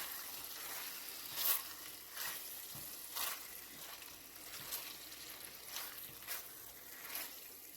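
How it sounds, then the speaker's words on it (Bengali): Fried potato, pointed gourd and shrimp sautéing together in a pan with spices, giving a soft steady sizzle with faint stirring scrapes recurring every second or so, heard close and alone. "আর চিংড়িটাও, ভেজে রাখা চিংড়িটাও দিয়ে দেবো ওর সাথে, দিয়ে অল্প কষিয়ে নেব।"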